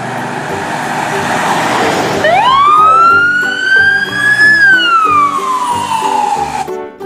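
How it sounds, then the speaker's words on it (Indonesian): An ambulance siren sounds loud and close, its wailing tone rising then slowly falling over steady roadway traffic noise. "Di sini ada mobil ambulan."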